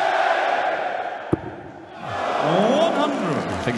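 Darts crowd at a PDC European Tour event in Riesa reacting to a throw: a loud swell of voices rising and falling, with a commentator talking over it and one sharp knock.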